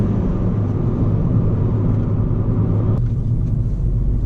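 Ford Fiesta ST engine floored under hard acceleration in third gear, a loud, steady droning rumble that drops in pitch suddenly near the end as if shifting gear.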